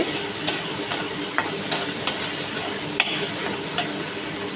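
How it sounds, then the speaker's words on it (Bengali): Spices for a vegetarian potato dum fry in a pan with a soft, continuous sizzle, broken by sharp scraping clicks as a spoon stirs them at irregular intervals. "দেখো মশলাটা আমার ভাজা ভাজা হয়ে গেছে"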